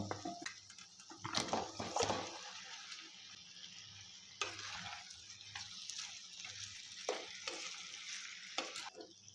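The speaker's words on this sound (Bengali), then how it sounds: "মশলাটা আমার ভালো করে ভাজা হয়ে গেছে এবারে মাংস ও আলু একসঙ্গে দিয়ে ভালো করে কষিয়ে নেব" Meat and potatoes sautéing with fried spices in a pan for a thin meat curry, with steady sizzling and several louder bursts of stirring and scraping, close and clear with no talk.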